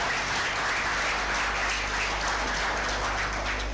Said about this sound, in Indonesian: kita beri tepuk tangan yang hebat kepada seluruh peserta yang datang